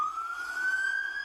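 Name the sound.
fire truck siren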